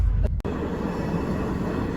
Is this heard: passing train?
yes